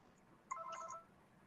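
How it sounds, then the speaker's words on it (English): A business telephone rings faintly in the background, a single short electronic trill of chirping tones, quiet and distant. "The phone won't stop ringing, but I was gonna say that sounds like a business phone ring."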